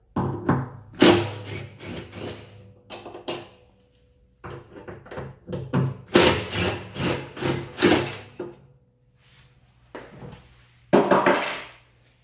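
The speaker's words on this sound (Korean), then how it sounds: "힌지 브라켓을 이렇게 빼주고 상부 브라켓도 제거를 해줍니다" Hinge bracket and upper bracket being removed from a laundromat washing machine, with bursts of scraping, rubbing and clattering metal-on-panel handling separated by quiet gaps, close and fairly loud, no voices.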